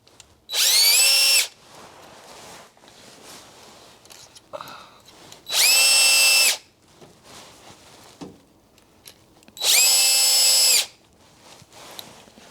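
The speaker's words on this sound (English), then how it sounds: "we take our drill and our screws, and we put our 4 screws" A power drill drives screws to mount a Hauslane UC-B018 range hood, three loud whirring bursts of about a second each, separated by quieter handling noise.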